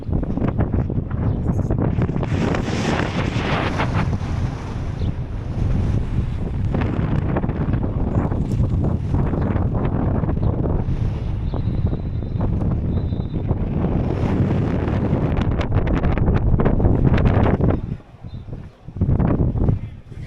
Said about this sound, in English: Yeah, it's pretty windy, guys.